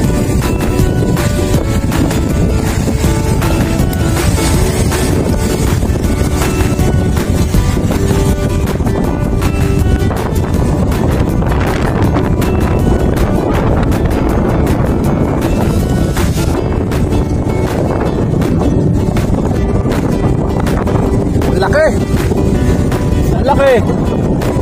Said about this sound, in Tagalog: lakas ng hangin mga master.